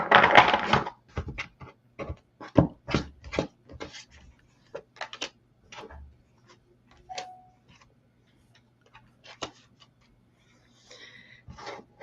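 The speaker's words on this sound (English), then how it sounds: "we'll get you started on the shuffling" Tarot cards being shuffled by hand: a close, dry run of crisp riffles, taps and rustles coming in irregular bursts, quieter toward the end, with no voices.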